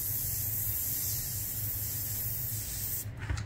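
An airbrush sprays paint onto a scale model of a WW2 German Sd.Kfz.251 half-track, giving a steady close hiss of air and paint that cuts off near the end.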